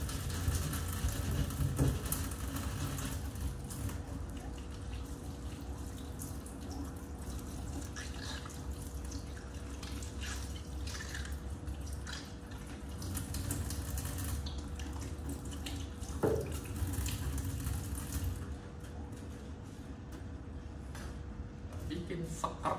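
A kitchen tap runs water steadily while a spatula is washed, a close continuous splashing stream with occasional clatters, with voices talking over it.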